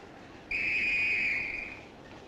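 A passenger train's whistle sounds once as it departs late, a single clear tonal blast lasting over a second and fading out, alone over quiet background.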